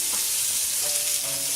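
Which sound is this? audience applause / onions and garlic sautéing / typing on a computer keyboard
onions and garlic sautéing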